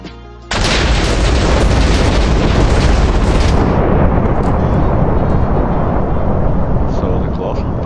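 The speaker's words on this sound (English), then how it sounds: "the Colossal Titan basically makes this pretty big explosion on the ground" Colossal Titan transformation explosion in a Minecraft Attack on Titan mod, a sudden loud boom that hits after a quiet moment and rolls into a long, sustained roaring rumble.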